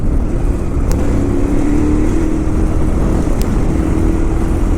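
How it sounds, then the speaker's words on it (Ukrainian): A KTM 990 Adventure motorcycle engine revving while stopped on an off-road autumn field trail, a loud, steady throttled drone held close by with little variation. "Ямки стоїмо в стоєшку і газуємо, так?"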